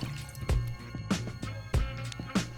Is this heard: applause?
no